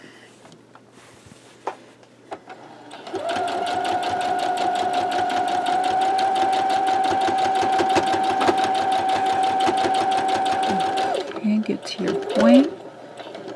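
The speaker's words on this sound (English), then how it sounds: "I'm going to sew right up, turn here, and go right off to the side" A sewing machine stitches in the ditch of a quilt block in one sustained, rapid run of close, rhythmic needle hum lasting about eight seconds. A few handling clicks come before it, a short voice speaks before the run, and fabric rustles after.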